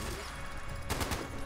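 Rapid gunfire in the video game Fallout 76: a quick burst of several shots near the end, over a steady game background.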